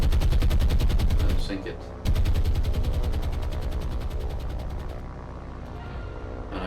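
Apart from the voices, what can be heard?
Hurricane aircraft machine-gunning a destroyer in War on the Sea video game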